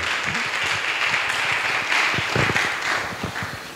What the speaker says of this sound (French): Avec vos acclamations s'il vous plaît